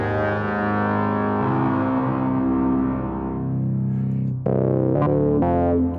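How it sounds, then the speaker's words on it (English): Sustained synth chord processed with added reverb in the AUM mixer app on iOS, long smeared tails, then a few sharper plucked notes near the end ringing out into the reverb, loud and alone with no talking. "I add a little bit of reverb to it."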